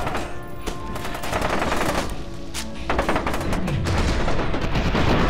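Rapid weapon fire from the shooter game F.E.A.R. 2 rattles in loud, dense bursts of automatic gunshots, sustained over several seconds with a brief lull midway, close and punchy.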